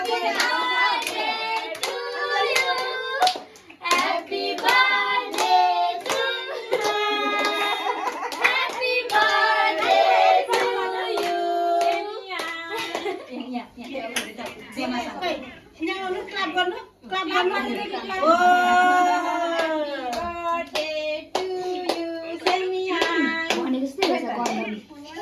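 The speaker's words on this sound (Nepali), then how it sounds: "ताली बजाइन त" Hands clap along at a child's third birthday celebration, steady and close, mixed with loud singing and children's and adults' voices throughout.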